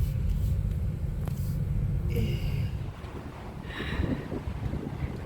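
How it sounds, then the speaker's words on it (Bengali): Strong wind gusts roar and buffet the microphone with a constant low rumble outdoors in a quiet American residential neighborhood, easing briefly midway before returning, with faint voices in the background. "এত হাওয়া দিচ্ছে, বেশ ভালো লাগছে হাওয়াটা"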